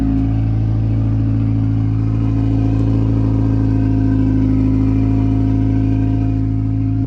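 Straight-piped Subaru Legacy GT, mufflers removed and only a resonator left, held at a loud, steady raspy drone with a deep rumble, close up and continuous without talk.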